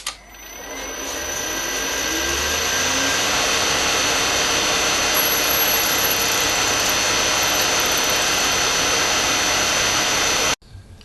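A loud, continuous motorized whir of a 2.5mm drill bit drilling a hinge piece ramps up over the first couple of seconds, holds steady, then cuts off sharply near the end.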